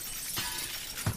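Glass shattering in the Teardown video game, two brief crashes with a bright hiss spread over the clip, the sharper burst near the end and a duller one earlier, heard alone without voices.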